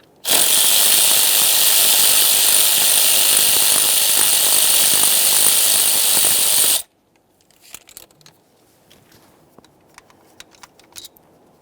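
A power tool drives out the 8mm ignition coil mounting bolt on a 2015-2020 Ford F-150 3.5L V6 with a loud, steady whir for about seven seconds, then stops abruptly, leaving faint scattered clicks and taps.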